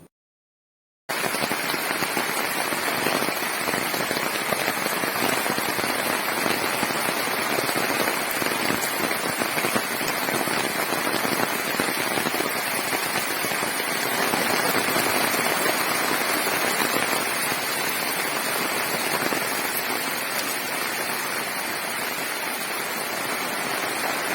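Rain falls steadily in the Chathamangalam hills (Theruvamala) of Kannur district, a dense, even hiss that holds without a break after a short silent start, with no voices.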